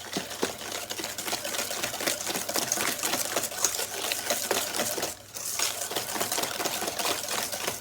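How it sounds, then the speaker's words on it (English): Egg being whisked into cookie batter for a s'mores cookie slice, a steady fast rapid clicking and scraping of the whisk against the bowl, close and continuous with one brief pause. "Now I'm going to add in 1 egg and whisk it together."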